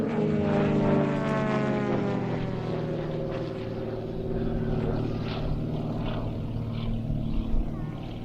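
A radio-controlled model aircraft built by Krill, just under 3 metres long with just over 3 metres of wingspan, flies a display with a steady, close, buzzing engine note whose pitch slowly shifts.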